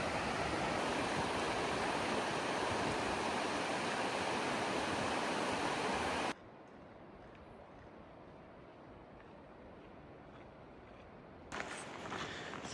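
Steady rushing of a mountain creek in Glacier National Park, loud at first, then abruptly quieter and duller before a brighter burst returns at the end.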